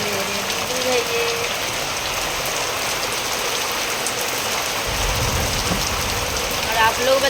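Steady rain falls throughout, a dense continuous patter on surfaces with a brief low rumble partway through, close and even in loudness.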